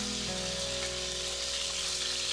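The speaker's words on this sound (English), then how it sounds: "nice little sizzle going on there" Lamb pieces and a maguey leaf sizzle in a hot pan for browning and charring, a steady close frying hiss with a low hum underneath and no talking.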